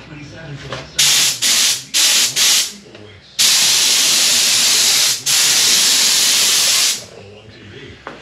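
A rattle can sprays paint onto parts of an XS650 chopper: several short hissing bursts, then two long loud sprays with a brief pause between, close up and without talk.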